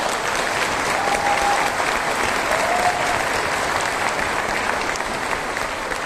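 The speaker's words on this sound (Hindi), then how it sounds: "एक बार जोरदार ताली।" Applause from an audience at a business success-story event in a hotel hall, steady dense clapping held for several seconds with a faint crowd murmur and no pauses.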